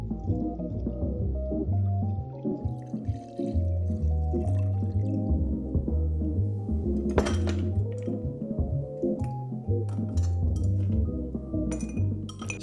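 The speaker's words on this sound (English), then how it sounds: "Stir it with plenty of ice and then strain it into a chilled glass." Ice clinks and rattles against glass while a clarified Ramos Gin Fizz is stirred, a continuous close rhythmic tinkling over a low hum.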